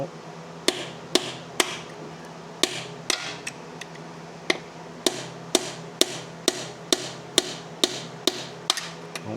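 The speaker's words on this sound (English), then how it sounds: "Seal removal tool. We're going to take its front seal out." A seal removal tool works the front seal out of a Ford AOD automatic transmission, making sharp metallic taps and knocks in an irregular but steady series of about twenty close hits, no talking.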